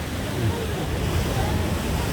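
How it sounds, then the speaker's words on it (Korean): Strong ocean waves break on the East Sea shore at Dokkaebi-gol in Korea, a loud, continuous broadband rush of surf with wind noise, heard up close. "파도가 너무 세가지고 겁납니다"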